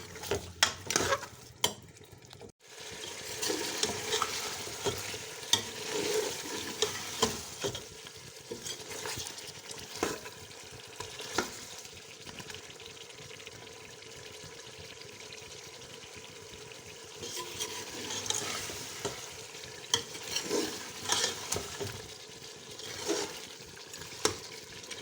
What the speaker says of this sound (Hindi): इसको मैं अच्छी तरह पहले फ्राई करूँगी।